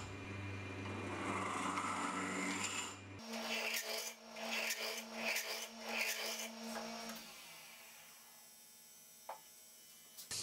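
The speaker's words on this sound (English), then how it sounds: "At this point, I sanded the interior of my goblet." Sandpaper rubbing the inside of a wooden goblet turning on a lathe, a soft, raspy scraping over the lathe's hum that pulses in uneven strokes, then fades to the quieter spinning machine.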